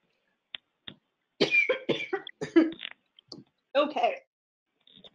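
Coughs and throat clearing from a presenter at a marketing campaign workshop, a string of short, close, dry bursts with pauses, followed by a few faint clicks.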